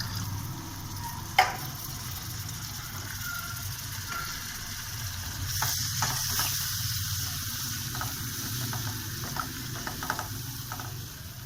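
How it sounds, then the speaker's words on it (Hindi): Water is poured into spices and chillies frying in a pan, raising a faint, steady sizzle with soft bubbling crackles and a clatter near the start, quiet and continuous with no talk. "पानी शामिल कर दें ताकि हमारे मसाले जले नहीं।"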